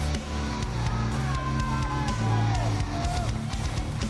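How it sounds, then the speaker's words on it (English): A wrestling crowd cheers and whoops loudly for the Kingdom Wrestling champion, a continuous roar with scattered yells over it, and voices can be heard talking within the noise. "Look at the reaction from the crowd."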